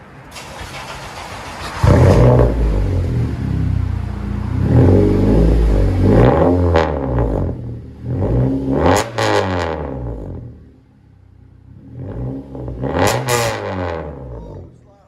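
A loud, raspy straight-piped exhaust on a 2009 Honda Accord four-cylinder, muffler and resonator removed, revs repeatedly in sharp bursts, climbing and dropping, close by, with short pauses between revs and no talking.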